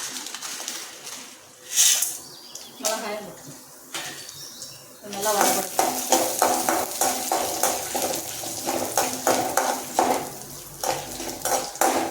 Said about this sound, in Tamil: எண்ணெய் சூடாயிடுச்சு கடலைப்பருப்பு போட்டுக்கிறேன் உளுந்தப்பருப்பும் போட்டுக்கிறேன்